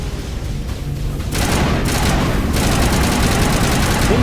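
Sustained gunfire in the Mass Effect video game, a dense continuous burst of automatic shots starting after a quieter lead-in and holding loud to the end.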